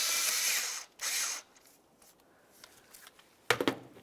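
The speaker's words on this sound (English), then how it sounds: "loosening the clamp that holds the inlet tube to the throttle body" Throttle body inlet tube clamp on a 2003-2011 Mercury Grand Marquis being loosened with a flathead screwdriver or 8mm socket, brief close metallic scraping and ratcheting bursts separated by quiet gaps, no talk.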